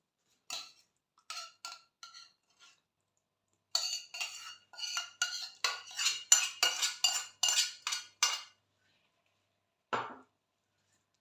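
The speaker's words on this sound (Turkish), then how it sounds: "Hemen iç harcımı bir karıştırmak istiyorum." An onion and cheese pastry filling is stirred in a bowl with a utensil, giving sparse clinks at first, then a quick run of rhythmic metallic taps and scrapes, and one final knock, with no talking.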